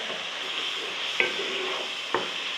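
Spice masala roasting in a pan for chicken nihari, with a steady sizzle and two sharp scrapes of a spoon against the pan, no talking.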